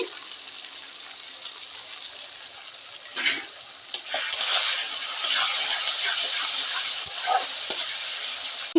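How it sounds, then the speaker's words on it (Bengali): Dried red chillies frying in hot oil for a butter chicken, a steady bright sizzle that swells louder after a few seconds with small crackles and spatters throughout, with no voices. "ঝালের জন্য এখন আমি শুকনো লঙ্কা দিয়ে দিচ্ছি"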